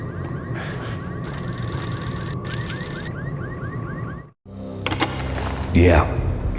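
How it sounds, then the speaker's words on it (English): In the game Max Payne, a payphone rings in repeated warbling electronic bursts over a background hum and music, then a sharp cut leads into a louder, shifting game effect; a voice speaks partway through. "The payphone started to ring."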